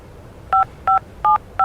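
Four short, evenly spaced telephone keypad dialing beeps from the Avatar World video game, clean two-tone tones sounding alone against a quiet background.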